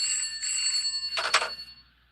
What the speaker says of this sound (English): she said that was her grandmother's old phone, and it didn't even have a cord, so how could it be ringing?